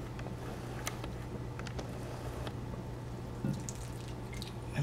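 Chicken broth poured over pieces of toasted white bread for old-fashioned chicken and dressing, a quiet steady drizzle with faint drips over a low kitchen hum.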